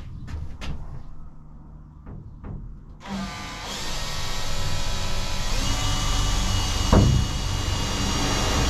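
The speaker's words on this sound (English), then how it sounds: "So time has now come for me to start drilling, start cutting, start making this hole." A power drill, then a cutting tool, works a hole through the metal body of a van for a hinged window: a few short drill bursts, then a sustained loud whine with shifting pitch that runs to the end of the clip.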